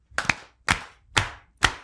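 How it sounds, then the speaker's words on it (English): Four sharp hand claps from an audience at a show, evenly spaced about half a second apart, each crisp and close with a short decay, alone with no talking. "4 claps. So you're going to do that between the chorus and the verse."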